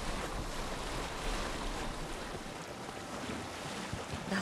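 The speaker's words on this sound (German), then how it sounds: "Das Boot kommt nicht gegen die Wellen da draußen an." Ocean waves surge around a boat in Assassin's Creed Odyssey, a steady broadband wash of surf and water rush with wind noise, continuous and fairly loud, no voices.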